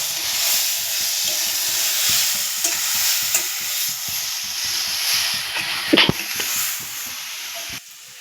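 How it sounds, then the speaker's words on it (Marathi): Ivy gourd (tondli) sautéing in hot oil for a spicy masala curry: a loud, continuous sizzle and hiss with frequent close scraping and stirring strokes, a sharper clatter near the end, and no talking. "ही जी तोंडली आहेत ही आपल्याला यामध्ये टाकून घ्यायची आणि हे छान परतून घ्यायचं"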